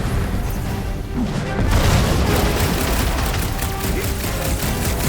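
An explosion in the Marvel's Guardians of the Galaxy video game: a heavy boom swells into a loud, sustained roaring rumble of blast and debris that fills the whole stretch without letting up.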